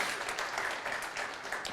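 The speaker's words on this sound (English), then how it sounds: "Could y'all give us all a round of applause?" An audience at an artist talk applauds steadily for the full stretch, a dense, even wash of clapping with no pauses and no voices on top.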